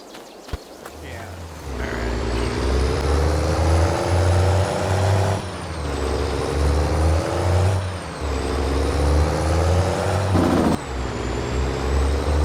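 A heavy truck in Farming Simulator 22 drives along at steady speed, its low diesel drone and rumble continuous with shifting engine tone and small dips in pitch, loud and near throughout.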